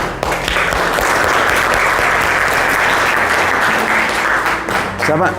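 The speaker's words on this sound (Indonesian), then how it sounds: "Oke, kasih tepuk tangan." Sustained applause from an audience at an Islamic lecture for students, loud and steady with dense clapping filling the whole stretch, some voices mixed in.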